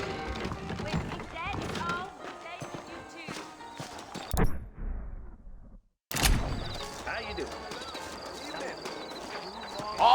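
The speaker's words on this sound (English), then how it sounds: "I got the horses saddled up and ready out front." Horses clip-clopping in the Western video game Red Dead Redemption, steady hoofbeats under game music and ambience, with a short near-silent gap partway through and character voices talking over parts.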